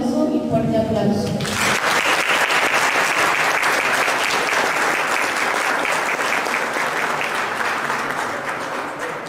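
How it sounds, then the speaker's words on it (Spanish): After a brief spoken introduction, a lecture audience erupts into loud, sustained applause welcoming the speaker, Salvador Borrego, and it keeps going with a steady, even roar. "para quien pido un caluroso y fuerte aplauso"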